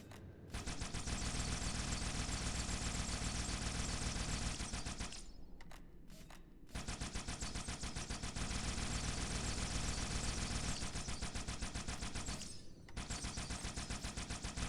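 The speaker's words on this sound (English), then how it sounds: "So I'm gonna start shooting the carbine." A Covenant carbine firing in Halo 2, with sustained rapid shots in long dense runs broken by two short pauses, steady and fairly loud throughout with no talking.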